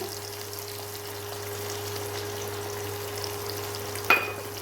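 Cumin, onion, garlic and ginger frying in hot oil for a rice vegetable dish: a soft, steady sizzle under a low kitchen hum, ending in a brief sharp clatter near the close.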